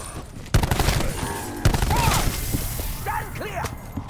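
Bursts of gunfire ring out in the first-person shooter Classified, with sharp shots and rapid volleys at close range, mechanical clatter between them, amid game effects and a voice.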